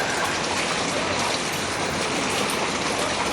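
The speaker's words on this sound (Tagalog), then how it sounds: "Pumapatak naman ang ulan sa Katmon yun." Steady rainfall on a flooded town street near a market in Katmon, a dense continuous hiss of drops throughout, fairly close, with no voices.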